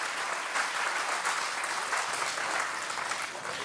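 A crowd of people clapping hands at a spiritual gathering, steady sustained applause from many hands at moderate distance, continuous and even for several seconds with no clear talk.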